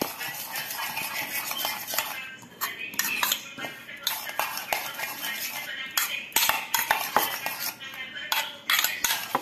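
Okra fry being stirred and mixed with spices in a pan, utensil scraping and clinking against the metal in a steady run of close, irregular scrapes and taps.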